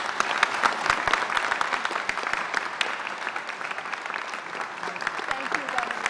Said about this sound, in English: Let's give a special round of applause to Meredith Bergman.